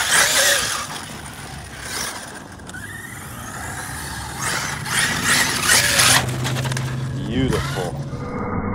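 An ARRMA Mojave RC car with a big bolt-on pinion gear bashes through sand, its motor whirring and revving in bursts while grit sprays, with a person talking over the driving.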